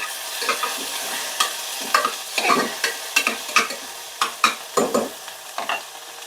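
Onions sautéed with ginger garlic paste for mutton varuval, heard as frequent scraping and clacking strokes of a spoon against the pan over a light sizzle, close and unaccompanied by speech.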